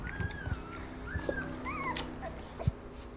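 Soft, high-pitched whimpers and little yips from German Shorthaired Pointer puppies, rising and falling in short bursts, with faint rustling and a few low thumps underneath.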